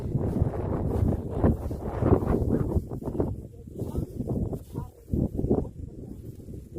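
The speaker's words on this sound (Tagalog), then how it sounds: "Wow, hangin." Strong gusty wind on Bayloko Hills in Garcia Hernandez, Bohol, buffets the microphone in uneven rushes, with faint rustling underneath and no clear speech.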